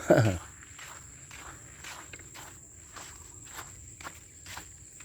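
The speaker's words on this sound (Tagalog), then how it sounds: "naglalakad tayo" Slow, regular footsteps crunching outdoors, evenly spaced and fairly close, with a constant high insect buzz in the background.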